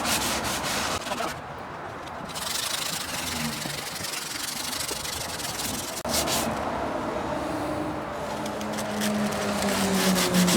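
A power sander grinds purple paint off wood in a continuous, loud rasping whir that changes pitch and texture midway, with faint talk under it.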